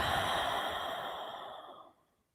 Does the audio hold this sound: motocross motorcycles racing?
no